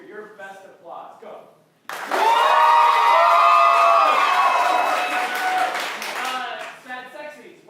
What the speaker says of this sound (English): I want to hear your best applause.